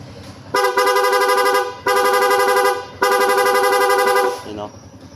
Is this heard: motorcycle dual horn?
yes